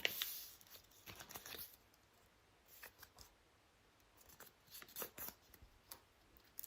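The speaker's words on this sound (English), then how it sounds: "Cut thin strips along the folded edge." Scissors snip thin strips along the folded edge of a red paper packet, a series of quiet, close crisp cuts in uneven bursts with pauses, no talking.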